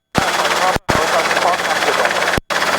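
Robinson R22 helicopter hover taxiing to parking at an airfield, a loud, steady broadband rotor and engine roar heard from inside the cabin. The roar cuts out briefly twice, and a radio voice sits in the mix.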